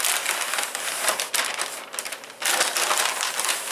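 Paper material is peeled and torn off a cardboard cereal box, giving a continuous close ripping and crinkling that eases briefly in the middle and then surges again.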